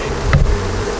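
Honey bees buzzing, a brief steady hum close by for about a second, with no voices.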